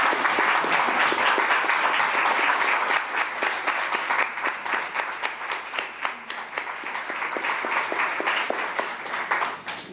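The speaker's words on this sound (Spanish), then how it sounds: "Así que fuerte el aplauso para Nuria." Dense applause from an audience at a book launch, loud and sustained for the full stretch, easing slightly after the first few seconds but continuing steadily without any speech over it.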